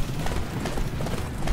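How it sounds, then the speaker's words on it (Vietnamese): Horse hooves gallop in the video game Attack on Titan: Wings of Freedom, a rapid, steady clip-clop beat running close and continuous over a bed of game background noise. "giờ cứ ngựa đi, cứ ngựa đi"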